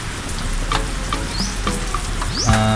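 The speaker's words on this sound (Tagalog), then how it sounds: "Kumukulo na siya." A pot of water bubbles and sizzles steadily on a stovetop, a close, continuous crackling boil with small pops and a brief clink toward the end.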